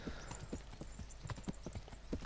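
Horse hooves clip-clop steadily while riding in Kingdom Come Deliverance, a soft, evenly paced trot heard alone at moderate distance.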